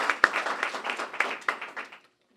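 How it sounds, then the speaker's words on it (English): Applause from a crowd at a main library re-opening celebration, a short burst of brisk clapping that thins out and stops abruptly after about two seconds. "So a round of applause."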